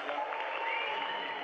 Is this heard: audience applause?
yes